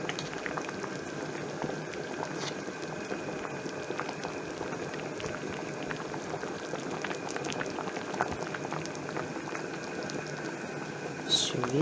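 A pumpkin simmers in a pot, giving a steady bubbling hiss at moderate level throughout, with a soft clink toward the end.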